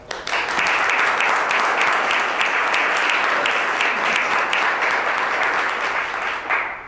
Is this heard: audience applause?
yes